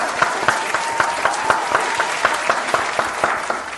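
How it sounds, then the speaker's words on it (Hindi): Audience at a televised talent show applauding, loud steady clapping from many hands with a few sharper rhythmic claps standing out, lasting throughout without speech. "एक बार जोरदार तालियां बजनी चाहिए।"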